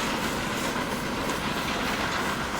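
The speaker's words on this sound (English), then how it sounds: "oh hey, there's another goods train waiting." A goods train in the Transport Fever 2 video game rolls past as a steady, dense rail rumble with faint clickety-clack, continuous and fairly close, with no talking.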